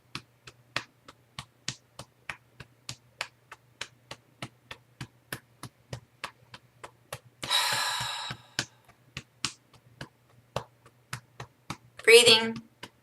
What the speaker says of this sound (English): I like to tap kind of firm